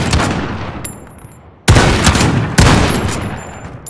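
Gunfire in Call of Duty: Modern Warfare: a loud burst of shots fading into echo, then two sharp fresh volleys, each rolling into a reverberant tail, with no talk.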